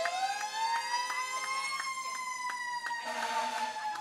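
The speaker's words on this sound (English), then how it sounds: "Let's hear the siren one last time." A loud wailing fire truck siren at a parade, its pitch sliding slowly, close by with a continuous harmonic whine; a low rumble joins near the end.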